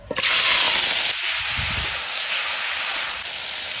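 Fish frying in hot oil seasoned with turmeric and salt, giving a loud, steady hiss and sizzle that fills the whole clip without pause, close by and with no talking.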